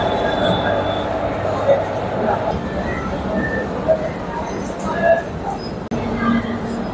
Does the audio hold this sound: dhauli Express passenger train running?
yes